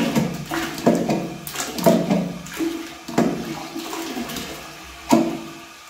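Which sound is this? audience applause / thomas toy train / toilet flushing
toilet flushing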